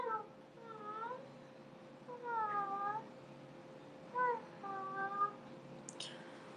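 A voice imitates an angry cat, giving several drawn-out, wavering meows and yowls in separate bursts with short pauses between, fairly close and clear, ending with a brief sharp noise.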